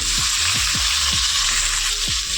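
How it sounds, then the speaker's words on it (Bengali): Potato pieces fry in hot oil with spices, hissing in a constant, close sizzle with soft repeated stirring scrapes, and no talk. "আলুগুলোকে একটু ভেজে নেবো।"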